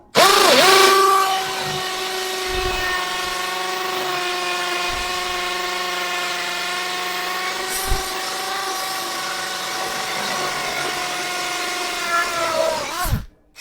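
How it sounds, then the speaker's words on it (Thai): An impact drill runs continuously for over ten seconds, its whining motor steady and loud, spinning up at the start and winding down at the end while drilling a hole. "เดี๋ยวลองชักรูครับ"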